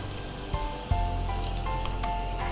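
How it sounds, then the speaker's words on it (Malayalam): Coconut oil poured into a hot pan while cooking a pomfret masala fry, producing a loud, steady sizzle and crackle with a brief knock near the start. "ഇനി കുറച്ച് വെളിച്ചെണ്ണയും കൂടി ഒഴിച്ചു കൊടുക്കാം"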